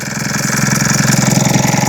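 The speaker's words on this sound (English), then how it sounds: "Right, engine running." Mitsubishi ASX 2.2 diesel engine running at idle in a workshop with a DPF fault, a steady close rumbling clatter with a regular pulsing beat, loud and alone without talk.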